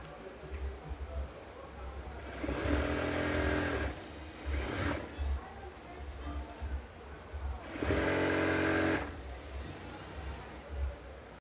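A sewing machine stitches a salwar belt in two bursts of fairly loud, steady whirring, separated by pauses with low background hum.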